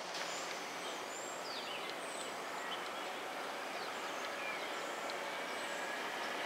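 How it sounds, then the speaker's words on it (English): A Philadelphia-bound train approaches at a distance, heard as a steady broad rumble with faint squeals, birds calling faintly in the open air. "See the train up there. See the light coming at us now."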